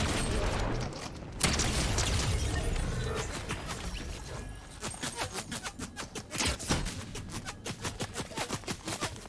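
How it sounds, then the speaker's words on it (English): Rapid gunfire in Fortnite Zero Build, a battle royale match, with repeated sharp shots and bursts coming from several directions, some closer and louder, in a busy, noisy firefight. "I'm getting shot from both directions"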